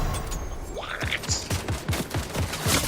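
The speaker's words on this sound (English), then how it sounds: "So stop shooting, bro." Rapid automatic gunfire in a video game, a steady series of sharp, evenly spaced shots pounding close and loud over a noisy background with faint voices.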